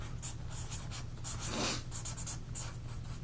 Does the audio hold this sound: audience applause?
no